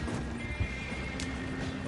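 A horse whinnies and its hooves clip-clop at a gallop in the Red Dead Online video game, a loud, steady stream of hoofbeats with a neigh near the start, under a constant hum and no talk.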